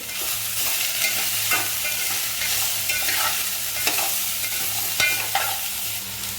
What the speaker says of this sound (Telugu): ఇలా వేసుకొని గరిటతో కలుపుకోవాలండి